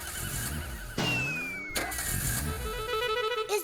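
A jeep engine cranks with a squealing whine, catches, and runs on in a rising, uneven mechanical drone, loud and close, with no voices.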